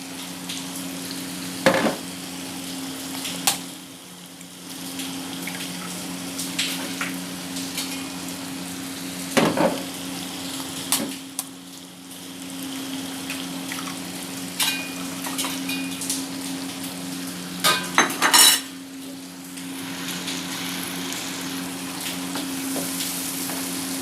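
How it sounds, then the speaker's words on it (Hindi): Eggs sizzle steadily in a hot pan for a Punjabi breakfast omelette, a constant frying hiss broken by a few sharp clinks of utensil against the pan, with no talking. "अब मैं इसके अंदर अंडे ऐड करूँगी, एक एक करके डालूँगी"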